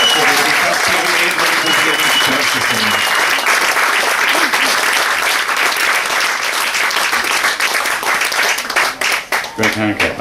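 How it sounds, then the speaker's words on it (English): An audience applauds after a song at the Village Pump Fest 2014 music festival, dense sustained clapping from a sizable crowd that holds steady and then thins out near the end. "Another round of applause"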